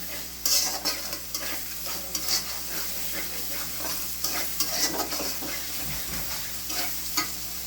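A spice paste with dried red chilli paste and salt sizzles and fries in a pan for cauliflower curry, with steady crackling and repeated scraping stir strokes, close and fairly quiet.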